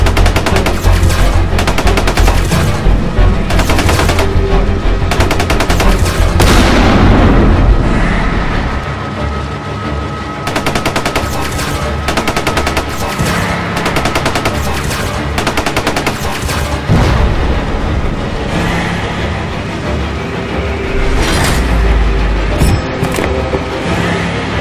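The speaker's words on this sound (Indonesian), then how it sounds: "Makan nih rudal Kim Jong Un." Video game combat in Choo Choo Charles, a game with a monstrous train: loud, dense bursts of rapid machine-gun fire and heavy blasts that keep going for the whole stretch, with brief lulls and rumbling booms, all close and forceful.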